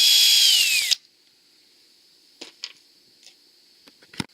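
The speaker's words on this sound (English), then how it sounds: "And I'm going to drill my hole." A power drill boring a hole to mount the drip rail of a Larson Savannah storm door, a loud steady whine lasting about a second that winds down, followed by a few faint taps and clicks of handling.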